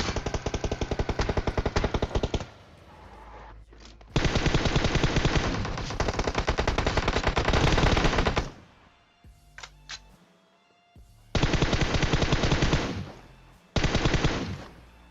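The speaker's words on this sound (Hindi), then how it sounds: "तो मैं क्या करता हूँ, गोली गोली चलाता हूँ, एक एक गोली लगती है मेरी उसको।" Rapid automatic gunfire bursts from a video game, loud and close, in several long volleys separated by brief quiet gaps and a few single shots.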